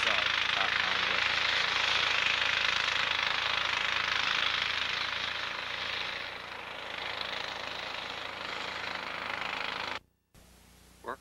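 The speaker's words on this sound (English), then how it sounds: "They're doing some drilling here at a rock quarry just this side of Top Pond Brook." Construction workers drill rock at a quarry beside a road being widened, a steady, harsh, rattling roar that continues for about ten seconds before cutting off abruptly.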